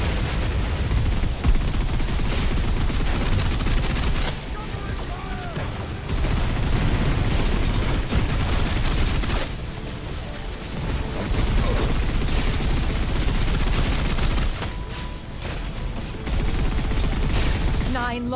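Suppressive gunfire in the Snowbreak video game: sustained, loud rapid-fire bursts, close and dense, broken by a few brief lulls, with game sounds layered throughout.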